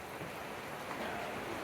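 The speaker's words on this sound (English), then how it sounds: "Alright, it's raining out." Steady, soft rain falls outdoors as a continuous hiss during assembly of a RadRover 6 Plus electric bike, with no other distinct sounds.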